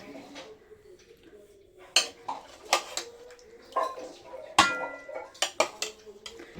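Chicken pieces dropped into a biryani pot of yellow and white rice, giving a string of sharp metallic clinks and scrapes of a spoon against the vessel, close and fairly loud, with brief quiet between hits.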